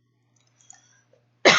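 A single sharp cough bursts out loud and close at the very end, after near silence with only a faint low hum and a few tiny clicks.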